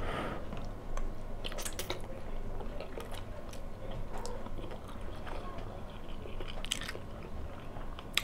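Close-up chewing of navy-style pasta with minced meat during a mukbang, soft wet mouth sounds and occasional sharper bites and clicks repeating irregularly, quiet and near, without talk.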